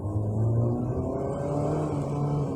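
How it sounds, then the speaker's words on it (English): Engine of a 2022 Mitsubishi Xpander Cross accelerating, heard from inside the cabin as a steady, loud low drone that holds without a break, with no voices over it. "you can hear the engine a lot, but it's not too drony"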